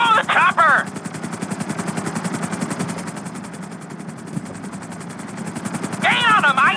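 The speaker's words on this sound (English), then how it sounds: "Follow the chopper!" Helicopter flying in the video game Grand Theft Auto V, a steady rotor chop throughout with engine whine, while voices talk over it near the start and end.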